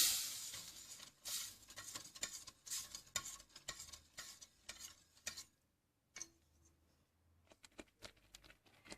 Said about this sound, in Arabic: كنضيفوا الحليب ديالنا، كنبقاو نحركوا فيه حتى كيتقى لنا الخليط ديالنا